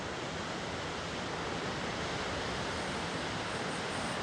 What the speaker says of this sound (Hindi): ये है पूरा वाटरफॉल।